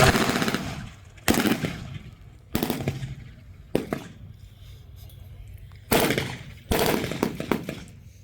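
Loud gunfire in a combat scene rings out in several sharp bursts and single heavy shots, each with a brief echoing tail, spaced irregularly with quiet gaps between them.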